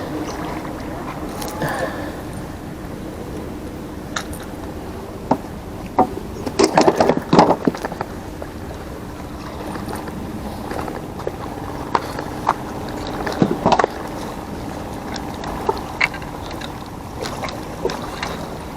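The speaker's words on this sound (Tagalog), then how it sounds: "Kaya dito, tatakay ng bangka." Small fishing boat moving on the water at Baseco lighthouse, with low engine and water rumble under scattered wooden knocks and clatters, plus occasional faint voices.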